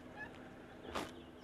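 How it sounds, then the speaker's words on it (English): White-browed scrub robins sing on an African safari drive, a few brief bird calls rising over a steady outdoor background, moderately near with one louder burst. "Mostly the white-browed scrub robins that we're hearing singing right now."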